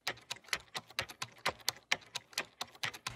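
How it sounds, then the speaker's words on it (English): Dry, close foley clicking and tapping hits in a busy, steady rhythmic loop for a dark trap-pop beat, crisp and percussive with no reverb and no speech. "And then we have this little Foley loop right here."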